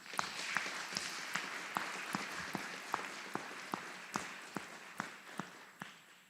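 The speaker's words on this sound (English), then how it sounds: "How about a round of applause?" A graduation audience for soldiers claps in a round of applause, a sparse, fairly quiet patter of individual hand claps in a steady rhythm without voices.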